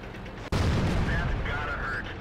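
Tank cannon fire in World of Tanks during a match replay, one sharp loud shot bursting in after a brief pause, then a rumbling roar that stays dense with a faint whine over the top.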